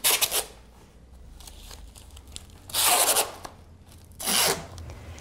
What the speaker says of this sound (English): You just butt the joints together and tape it with some masking tape.